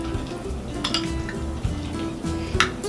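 Mango guacamole being stirred together in a bowl, soft continuous scraping and mixing with a few light clinks of utensil against the bowl, close and alone without talk.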